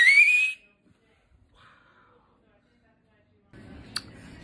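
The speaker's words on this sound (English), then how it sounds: "That's why I got that whistle" A whistle blown once in a short, loud, rising blast at the start. It is followed by near silence and then low background noise with a brief click.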